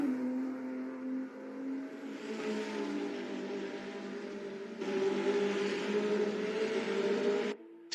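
A Porsche race car in a virtual racing game drones and revs through its gears, a steady engine tone that climbs and shifts pitch, heard alone and cutting off abruptly at the end.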